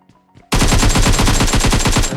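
A loud burst of rapid automatic gunfire from a video game, continuous and close, following a couple of faint soft thuds.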